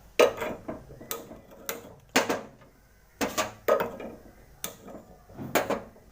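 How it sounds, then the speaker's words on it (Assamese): A gas stove is being lit with a wok set on it: a series of sharp, irregular clicks and clacks from the knob and igniter, close and fairly distinct against a quiet kitchen. "গেছটো জ্বলাই লওঁ"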